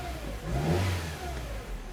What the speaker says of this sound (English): So right there, the engine is running